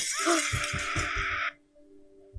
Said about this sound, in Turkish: Ve cam kırılma sesi.